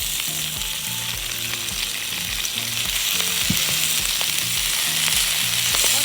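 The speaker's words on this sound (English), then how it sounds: "Let it all sweat down, saute." Spinach, garlic and tomatoes sautéing in a pan for a Creole lobster pasta, a loud, continuous sizzle with a brief stir midway and a low hum underneath.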